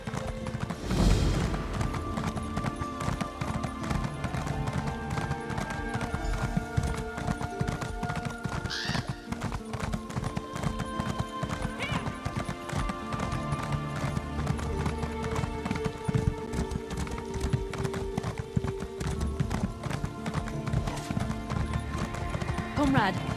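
Steady, rhythmic hoofbeats of a horse galloping under a rider in The Elder Scrolls Online, with a neigh near the start. The hooves continue evenly throughout while people talk.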